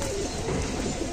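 Allahabadi pigeons in a loft give soft, low cooing over a steady hiss of background noise in a brief snippet.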